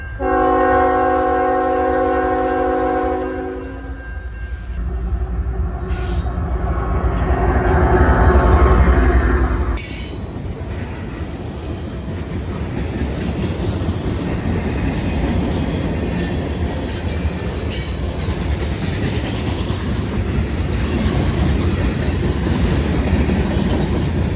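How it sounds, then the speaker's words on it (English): A CN Railways train sounds its horn in several long blasts, then rumbles past close by with a steady roar and rattle of wheels on the rails. "All right, we got a train going by."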